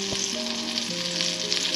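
Pieces of bluefish frying in oil, a close, continuous hiss and sizzle with a brief tap near the start and a low kitchen hum beneath, no voices present.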